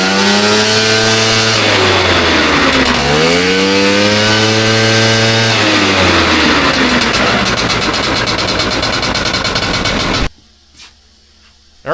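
A Ski-Doo Elan snowmobile engine with Tillotson carburetors, one too lean and one too rich, runs loud and close with a buzzing two-stroke tone. Revs rise and dip unevenly, then it cuts out abruptly into near silence.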